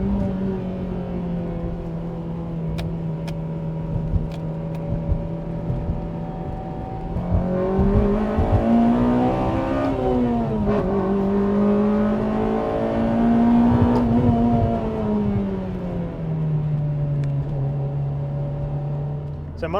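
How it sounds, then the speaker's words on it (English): A Honda Civic Type R FD2 with a catback exhaust drones steadily, then climbs in pitch as the engine revs up through VTEC, eases off and rises again, loud and close from inside the car. "we have a catback exhaust, which you've been hearing all throughout this video"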